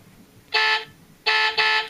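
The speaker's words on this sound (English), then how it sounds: "Horn, apparently." A Road Ripper toy car sounds its electronic horn in three short, loud honks, one followed after a pause by two in quick succession, close up with no speech.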